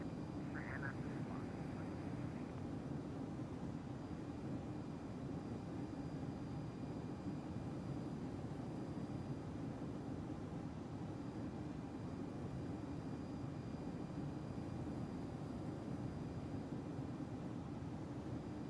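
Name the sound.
Boeing 767 taking off in X-Plane 11 video game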